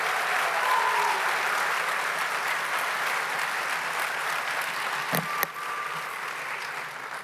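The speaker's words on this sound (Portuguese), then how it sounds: "Então, uma salva de palmas para receber Kelson Mota!" An audience claps to welcome a speaker at a talk on evolution and volcanism, sustained even applause at a strong level, broken near the end by a sharp thump or knock.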